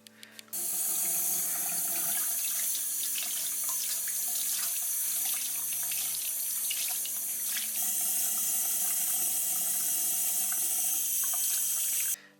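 A bathroom tap runs steadily while a makeup applicator is washed with soap under the stream, giving a close, loud, continuous rush of water with shifting splashes before it shuts off.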